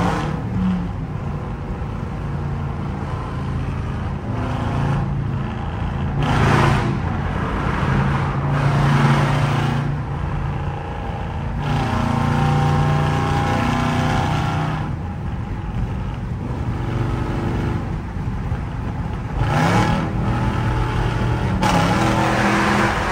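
Loud rumbling exhaust of a 5.7 Jeep Summit with the catalytic converter removed, a continuous droning roar with repeated surges as the engine revs, close and without talk.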